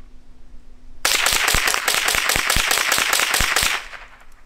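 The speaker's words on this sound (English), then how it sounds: "I'm gonna fire some off into the dirt." A rapid string of about a dozen suppressed .22 gunshots fired into dirt through an Odin Works Nav 22 suppressor, crisp, close and evenly spaced cracks lasting nearly three seconds before quiet returns.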